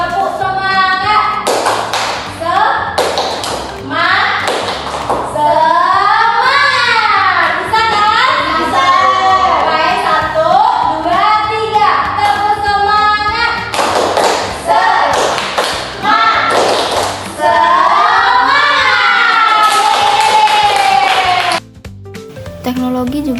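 A class of schoolchildren claps a rhythmic chant led by their teacher, with bursts of taps and claps and children singing and chanting over the beat throughout.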